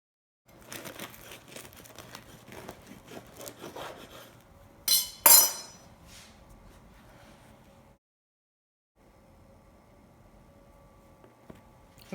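A knife saws through a loaf of homemade Italian focaccia, producing crisp crunching and crackling crust sounds in a steady rasping rhythm, with one louder crackle midway, then a brief pause before softer cutting resumes.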